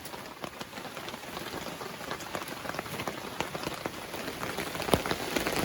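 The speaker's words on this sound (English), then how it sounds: "It's raining." Steady rain patters on a cover or surface outdoors near the Wild Ammonoosuc River in New Hampshire, a dense, fairly quiet hiss of drops with occasional louder nearby hits.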